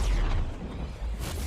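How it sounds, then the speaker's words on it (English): Explosions from the Battlefield 2042 video game trailer, a deep, rumbling boom with a heavy low-end roar that swells and sustains through the short moment without any talk. "Explosions, dude."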